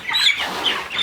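Young meat chicken chicks peep and cheep in short, bright calls, close by, as they are handed into a pasture pen on a farm.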